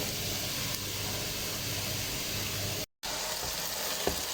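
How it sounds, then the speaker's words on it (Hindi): Finely chopped onions frying over a medium flame for fish curry give off a dense, even hiss of sizzling oil with a few light stirring clicks, broken by a brief silent gap. "प्याज का कलर लाइट गोल्ड होने तक फ्राई करेंगे मीडियम फ्लेम पे।"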